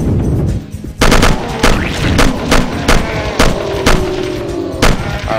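Gunfire from a new gun in the shooter game Will Rock: loud, sharp shots fire in an uneven string of about eight blasts, each with a short echoing tail over a busy in-game background.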